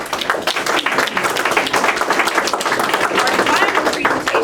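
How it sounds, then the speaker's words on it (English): An audience at a playwrights festival claps steadily and loudly in a dense round of applause, with some voices mixed in. "one more round of applause"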